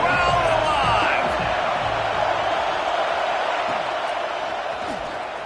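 A college football video game produces a loud, continuous roar from the crowd during a third-down red zone play, building near the start and then fading slowly over several seconds.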